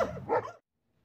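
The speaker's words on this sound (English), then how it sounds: "Dogs." Dogs bark in short, close bursts during a Thanksgiving-day gathering at home, a quick flurry lasting about half a second before falling silent.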